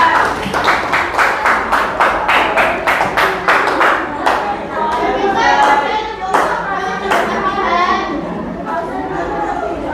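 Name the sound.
children clapping hands in class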